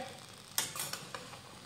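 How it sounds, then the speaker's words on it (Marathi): A spoon scrapes and clatters against a pan while mixed vegetables for a traditional bhaji are stirred, giving a few quick clinks and scrapes close by with no talk. "तर ह्या भाज्या आपल्याला एकदम व्यवस्थित मिक्स करून घ्यायच्यात।"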